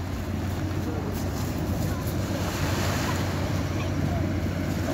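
A hovercraft arriving at a seaside hovercraft port in Portsmouth, UK, on a windy afternoon, heard as a steady, loud low roar and rumble mixed with wind noise and surf, continuous throughout.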